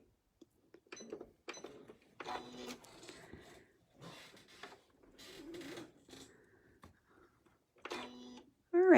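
A sewing machine stitches a quilt in short bursts of mechanical whirring and clicking, separated by pauses, close and moderately loud, with a sharper burst at the very end.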